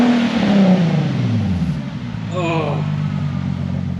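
A car with a Nissan VQ V6 engine and STILLEN exhaust revs up and falls back in a raspy sweep, then settles into a low idle, with brief voices over the engine.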